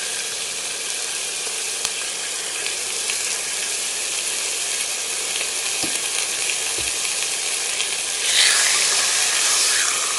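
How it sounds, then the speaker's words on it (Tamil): Chicken roasts in olive oil in a pan over a low to medium flame, making a steady, close, loud sizzle and hiss that swells slightly near the end. "இந்த மாதிரி பேனில் போட்டு நம்ம ரோஸ்ட் பண்ணிக்கலாம்."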